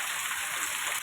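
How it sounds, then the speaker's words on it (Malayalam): Heavy rain pours down outdoors in a steady, dense rush, close and fairly loud, with no voices over it. "നല്ല മഴയാണ്"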